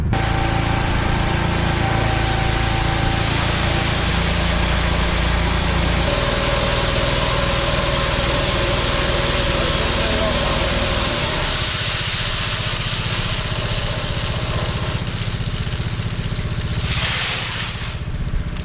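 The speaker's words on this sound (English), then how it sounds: "Some people ask me what's my favorite tractor on the farm. This gal right here." A steady farm tractor engine drone runs throughout, loud and close, with a low rumbling idle that eases slightly toward the end.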